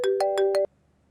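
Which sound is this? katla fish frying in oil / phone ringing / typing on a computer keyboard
phone ringing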